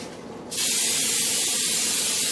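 A can of cooking spray hisses steadily into a 13 by 9 casserole dish for about two seconds after a brief quiet start, close and loud.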